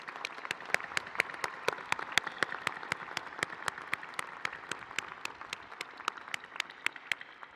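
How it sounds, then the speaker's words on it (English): Applause for graduates at a university graduate school commencement ceremony, a thin, fairly quiet patter of clapping with regular sharp claps standing out, sustained for several seconds with no talk. "Please join me in a round of applause for all of our outstanding graduates."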